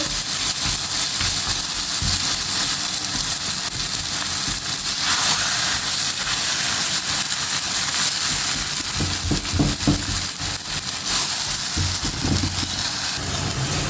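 Brinjal (eggplant) fries in a pan with very little oil, giving a steady close-up sizzle and hiss that continues without a break and without talk.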